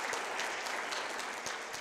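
A crowd at a summit claps throughout, a sustained, even wash of many hands close to the listener, with occasional louder individual claps poking through the steady patter.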